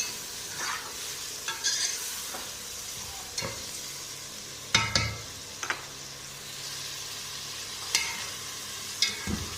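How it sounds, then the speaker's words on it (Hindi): Chicken and tomatoes frying in a pan, a steady sizzle throughout with intermittent scraping and knocking strokes of a spoon stirring, close and clear. "टमाटर भी डाल दिए, उसको भी गलने तक हम फ्राई करेंगे।"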